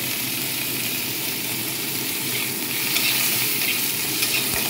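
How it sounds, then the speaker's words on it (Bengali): Ginger paste and chopped tomato fry in a pan with parwal, giving a continuous close sizzle with a slight swell in loudness partway through, and stirring faintly audible beneath it. "আদাটাকে একটু কষিয়ে নিচ্ছি"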